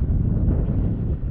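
Wind on a sailing boat, a brief, loud, steady low buffeting rush of wind noise against the microphone.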